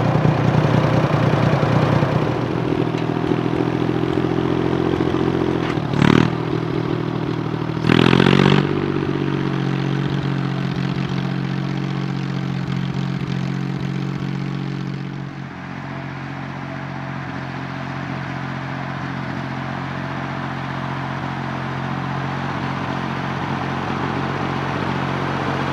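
An old tractor engine runs steadily nearby with a low, throbbing idle and mechanical clatter. Two brief revs come early, then it settles into a continuous, slightly quieter drone.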